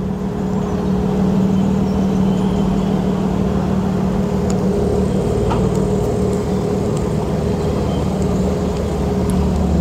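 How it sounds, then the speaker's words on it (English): Morning road traffic on Castle Hill in Dudley, a loud, continuous engine rumble and tyre roar from passing vehicles with a steady low drone and no voices. "There's Castle Hill traffic."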